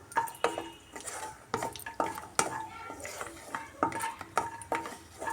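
Almond halwa being stirred and fried in a pan, repeated close scraping and knocking of a spoon against metal in an uneven rhythm over a faint sizzle.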